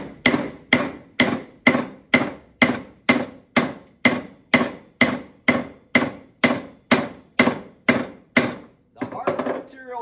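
Hammer blows on metal being forged, a steady run of about sixteen loud, evenly spaced strikes close by, followed by a brief scraping clatter at the end.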